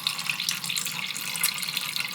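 Water runs steadily from a tap into a sink while a foundation makeup brush soaks, a close, even splashing hiss with no voices over it.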